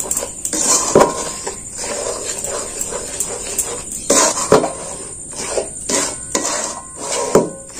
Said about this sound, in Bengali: এটা আমি খুব নেড়ে চেড়ে ভালো করে নেড়ে চেড়ে নেব